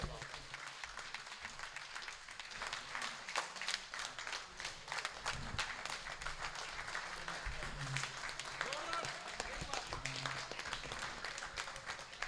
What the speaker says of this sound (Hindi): भरपूर तालियों में इस्तकबाल करें मोहतरम इकबाल अशर साहब